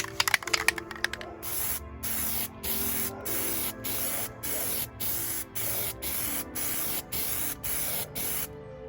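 Aerosol spray can laying a fourth smoke tint coat on car side marker lenses: a rapid series of short, even hissing bursts in steady rhythm, close, after some rattling handling.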